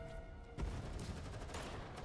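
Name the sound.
gunfire and explosions in a video game cutscene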